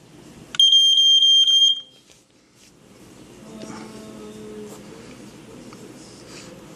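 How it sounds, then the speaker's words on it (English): A Sunbeam 945 61 smoke detector sounds a loud, piercing, pulsing test alarm for about a second, then cuts off, leaving quiet low background sound. "In the event of fire, a loud, continuous, high-pitched alarm will sound."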